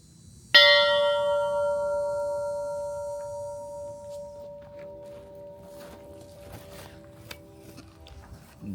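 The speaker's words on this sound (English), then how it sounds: "You're not supposed to ring the bell." A large bell rung by pulling its rope sounds one loud clang with a long ringing decay that fades over several seconds, followed by faint footsteps and light knocks.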